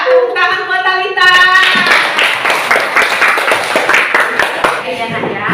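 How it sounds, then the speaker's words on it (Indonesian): Classroom of primary school children clapping for a classmate in a fourth-grade lesson, lively rhythmic hand claps following a short stretch of speech at the start. "Tepuk tangan buat Talita."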